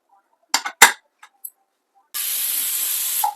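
A pressure cooker on a kitchen stove gives a few short clinks and spurts, then a steady loud hiss of escaping steam that runs unbroken to the end and finishes with a brief whistle tone.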